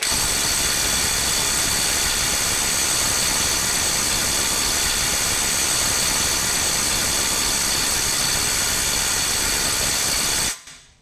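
A RYOBI 18V One+ HP compact impact wrench runs at its 450 setting, giving a loud, steady, dense hammering whir for about ten seconds without a break before cutting off sharply at the end.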